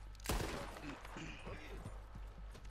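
One loud shot cracks out in Red Dead Redemption 2, followed by a brief rumbling tail and softer game noises, while players talk over it.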